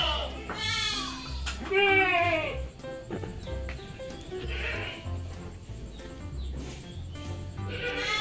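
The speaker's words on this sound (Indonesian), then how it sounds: "Kambing." Goat bleating amid other farm-animal calls in Jurassic World Evolution 2, with a horse-like whinny and sheep sounds mixed in over steady game ambience and background music.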